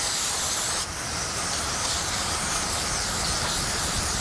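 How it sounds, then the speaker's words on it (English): Cleaner sprays in a long, steady hiss into a main bearing cap of a 1971 Buick 455 V8 engine, loud and close with one brief break, alone without talk. "I'm just gonna spray this out real good."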